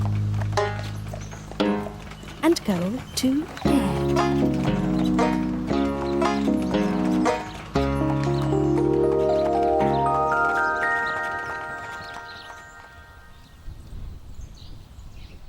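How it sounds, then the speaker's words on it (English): Donkey hooves clip-clop in a steady, gentle trot rhythm inside a cheerful children's TV song from Tweenies. Singing and bright instruments play over the hoofbeats, then fade out on a held note. "Donkey trot, with a tight donkey head, we'll gently donkey trot back home"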